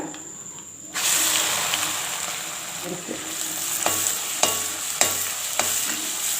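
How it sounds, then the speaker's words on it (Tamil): Grated mango ginger sautéing in hot oil after asafoetida has fried, giving a loud, steady sizzle throughout with repeated scraping stirs in the pan. "நல்லா அந்த எண்ணெயிலே நல்லா வதக்கி விடணும்"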